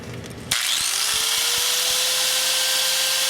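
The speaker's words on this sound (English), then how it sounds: "We're going to grind these 3 rivets off" A grinder bites into the rivets on an upper ball joint of a Dodge Dakota, starting with a sharp onset and then holding a loud, steady high-pitched whine with faint ticking, close and alone.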